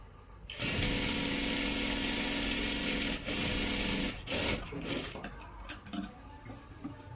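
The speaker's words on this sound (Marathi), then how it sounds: "आता इथे आपल्याला डबल शिलाई मारून घ्यायची आहे" A sewing machine runs a double stitch along a salwar seam in a close, steady whirring burst that pauses and restarts, then gives way to short bursts and small clicks of handling the fabric.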